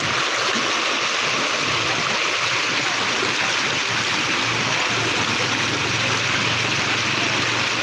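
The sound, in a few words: fast-flowing floodwater on a road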